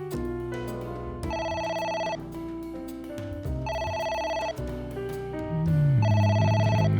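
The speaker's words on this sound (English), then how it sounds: "A phone. Should I pick it up?" A telephone rings inside the adventure game AI: The Somnium Files, a steady bell-like ringtone repeating in three bursts over game music, loud and close, with no talking.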